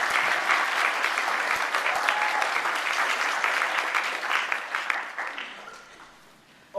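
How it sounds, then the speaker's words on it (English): A room full of people applauds the judges at a debate event, dense sustained clapping that slowly tapers and thins toward the end. "One more round of applause for the judges."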